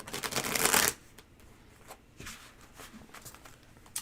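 A tarot card deck being shuffled by hand: a dense, loud burst of riffling cards for under a second, followed by softer scattered shuffles, taps and card handling.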